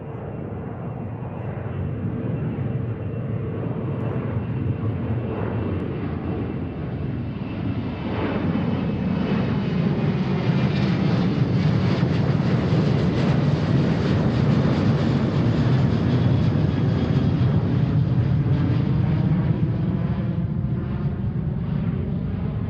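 Alaska Airlines jet departing Seattle airport on a flight to Fairbanks, its engines roaring loud and steady with a broad rumble that swells through the middle and holds near, no voices over it.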